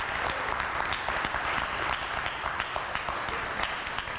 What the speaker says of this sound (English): Round of applause for our keynote speakers this afternoon.